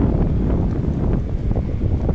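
Strong wind at the Dania Beach fishing pier in South Florida buffets the microphone in a continuous low roar, with gusty rumbling throughout.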